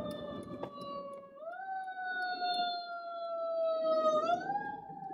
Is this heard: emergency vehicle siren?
yes